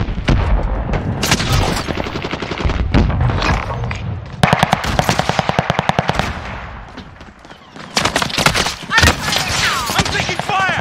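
Call of Duty Warzone gunfire: rapid machine-gun bursts and repeated shots crackle close and loud in several volleys, with booming impacts between them and voices speaking over parts of the fighting.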